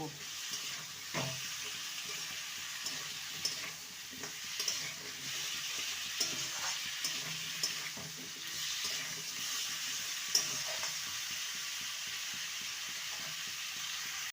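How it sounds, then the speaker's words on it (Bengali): Cut moringa drumsticks are stirred in a pan with softened tomato, giving a moderate, continuous sizzle with repeated scraping and clatter from the utensil over about fourteen seconds. "এবারে কেটে রাখা সন্ধে ডাটাগুলো দিয়ে দেবো ভালো করে নেড়ে নেব দু মিনিট নেড়ে নেব"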